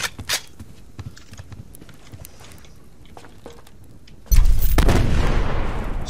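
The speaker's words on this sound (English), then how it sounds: "Straight away with the grenades." In the survival video game Subsistence, scattered sharp gunshot cracks lead into a sudden loud grenade blast whose roaring rumble fills the rest of the moment.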